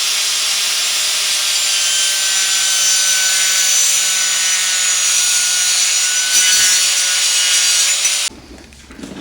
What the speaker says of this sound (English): I'm using a disc and just going to cut them down